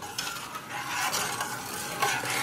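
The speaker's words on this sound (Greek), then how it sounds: "Με μια κουτάλα ανακατέψτε τη ζάχαρη." A ladle stirs sugar into water in a pot for a walnut sweet, scraping and swishing in repeated strokes that sound close and fairly loud, with no voices.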